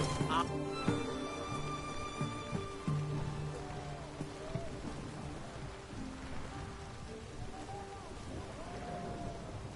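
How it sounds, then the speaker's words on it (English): Steady rain falls in The Witcher 3 video game, a soft continuous patter with game music tones and voices talking over it. "It's raining, of course it's going to be damp."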